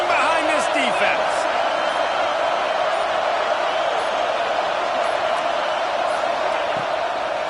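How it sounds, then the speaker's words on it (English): Football stadium crowd roaring steadily for the defense on a big third down in the red zone, a dense, continuous wall of cheering and noise that stays loud throughout with no pauses. "this crowd is getting behind this defense."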